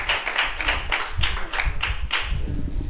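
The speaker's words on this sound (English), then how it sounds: "Applause." Audience applause breaks out for Jeff Colvin at a business leadership event, a steady crowd clapping with dense, even hand claps sustained throughout, moderately loud and with no voices over it.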